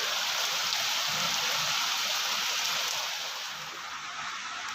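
Rain falls in a dense, steady outdoor wash that holds at an even level and eases slightly near the end, with no voices.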